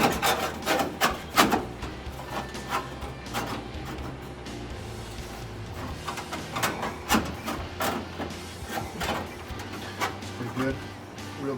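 Sheet metal being trimmed to fit during restoration of a 1970 Dodge Challenger, heard as a close series of sharp, crunchy cutting snips in irregular bursts over a low background murmur.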